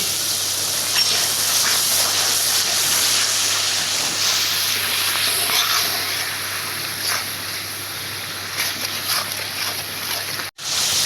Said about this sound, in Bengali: একটু পানি দিলাম মশলাটা কষানোর জন্য